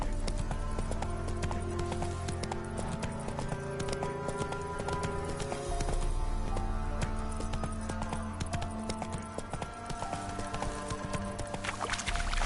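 Roach, the horse in The Witcher 3, gallops in a steady, loud clip-clop of hooves that runs unbroken for the whole stretch, layered over a dense game soundscape of music and ambience.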